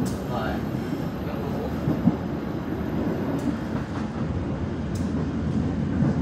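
Steady low rumble inside an economy-class carriage of the Serayu train in Indonesia, near Kroya station, with continuous rolling noise and faint clattering, occasional soft high squeaks, no talking.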